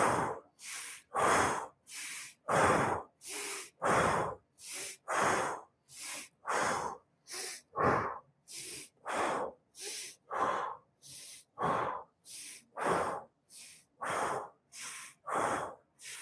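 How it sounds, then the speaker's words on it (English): Rapid breathing exercise done by one person close up: about two dozen forceful, evenly paced breaths, each a loud airy rush through the nose or mouth, separated by short silent gaps. "you're going to do some rapid breathing again"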